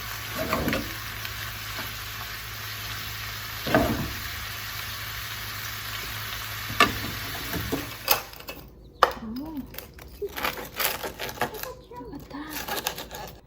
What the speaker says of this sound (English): Just a quick saute.